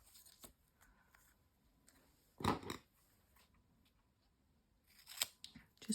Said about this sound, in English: So we'll cut another bit of this.